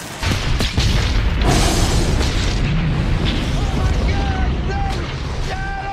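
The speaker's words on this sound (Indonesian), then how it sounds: "bom pun meledak." A bomb goes off in a garage during a film action scene, a loud broadband blast with booming low rumble that carries on through the clip, with scattered bursts and debris-like crackle and faint voices mixed in.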